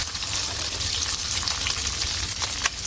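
Egg fries in a pan with salt and a splash of water in a village kitchen, producing a loud, continuous close-up sizzle with a brief crackling burst near the end.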